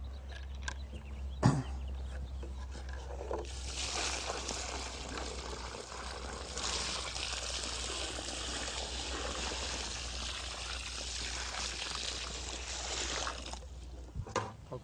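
Water poured from above into a deep planting hole about three feet wide for a tree, a rushing splash that swells in and holds steady for around ten seconds before tapering off. A brief knock sounds near the start.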